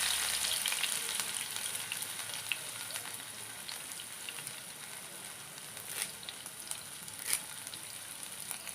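Ginger frying in coconut oil for a sardine curry: a faint, continuous crackling sizzle with a few scattered pops and light stirring ticks.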